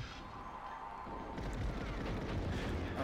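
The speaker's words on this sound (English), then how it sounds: "Oh god, they're shooting me from behind." Gunfire in the GoldenEye 007 video game's Bunker level starts as a low rumble, then becomes a dense, rapid burst of shots heard faintly but continuously.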